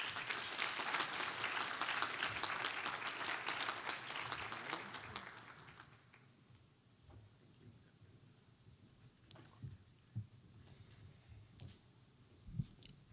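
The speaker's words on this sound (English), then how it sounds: "Give them a big round of applause." Audience applause at a university chancellor's awards ceremony, a full, steady round of clapping that fades out after about six seconds, leaving quiet room noise with scattered taps and shuffles.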